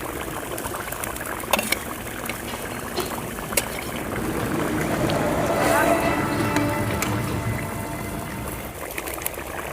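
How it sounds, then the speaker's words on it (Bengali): Fish curry broth with turnip and potatoes boils hard in a village-style pot, a steady close bubbling and churning that swells toward the middle, with faint clicks scattered over it. "ঝোলটা ভালো করে ফুটে উঠেছে"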